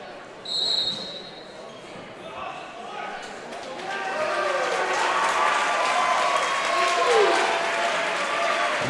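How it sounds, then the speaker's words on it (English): Crowd at a high school boys varsity basketball game, Pisgah at Franklin, swelling into cheering and applause that grows louder and holds, with an announcer talking over it and a sneaker squeak early on. "Gets a cheer from the crowd."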